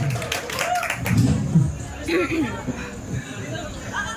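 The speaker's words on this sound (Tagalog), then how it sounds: "Palakpak naman dyan!" An audience claps at a Philippine amateur left-hand armwrestling tournament, short bursts of close clapping mixed with crowd chatter, while people talk and shout loudly over it.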